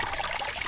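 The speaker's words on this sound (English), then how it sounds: "as you can kind of see from the water here when it comes over the rock" Water pours steadily over a rock into a backyard pond built as a bird spa, a continuous close splashing trickle with no pauses.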